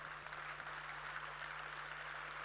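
An audience at a youth dialogue convocation claps in a continuous, faint, distant patter over a steady electrical hum.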